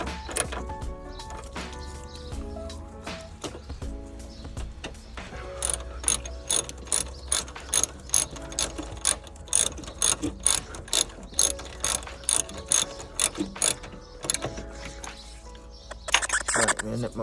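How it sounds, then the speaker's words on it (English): A spanner ratchets in quick, evenly spaced clicks while tightening during a Mazda Miata headlight motor swap, close and crisp, in short bursts after a stretch of quieter fiddling and a brief voice. "I'm going to nip up the spanner."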